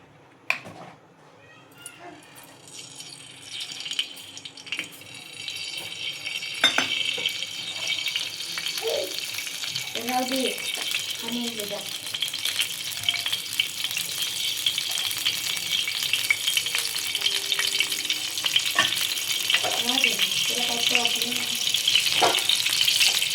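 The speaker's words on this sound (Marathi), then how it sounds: "तर आता आपण ही भाजी तेलात टाकून घेऊ" Vegetables fry in hot oil with a bright, continuous sizzle that swells after they go in, with intermittent stirring clinks and brief bits of faint speech.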